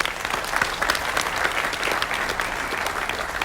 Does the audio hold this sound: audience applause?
yes